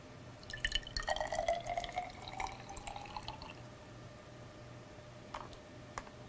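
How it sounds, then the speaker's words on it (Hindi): Lime water is poured into a glass test tube, a short trickling splash with small droplets and clinks near the start, fading to quiet with a couple of faint taps at the end. "सबसे पहले हम अपरख नली लेंगे और इसमें चूने का पानी डालेंगे"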